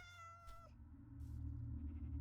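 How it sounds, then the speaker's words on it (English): A Minecraft cat gives a clear, tonal meow up close, followed by low game ambience and a soft rumble, with no talk. "there's a kitty cat out here"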